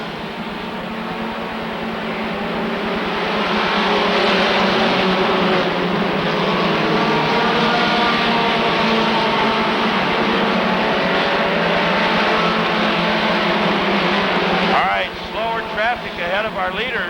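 Race cars roar around the oval at Rockford Speedway in a dense, continuous engine drone that swells and holds loud, with a race announcer talking over it.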